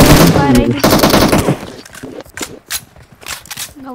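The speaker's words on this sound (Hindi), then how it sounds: "अरे भाई भाई फायर कर रहे हैं ना" Rapid automatic gunfire bursts loudly and close in the video game PUBG on the Livik map, followed by scattered single shots and footsteps as it fades.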